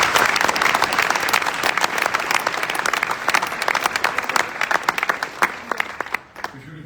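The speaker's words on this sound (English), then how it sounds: "this deserves a big applause" A large audience at the WorldSkills Competition closing ceremony in Messe Luzern, Lucerne, Switzerland, bursts into loud applause, dense clapping that thins into scattered individual claps before fading out near the end.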